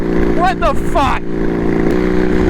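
An upgraded riding lawn mower drives fast with a steady, loud droning engine hum close by, while a man exclaims over it.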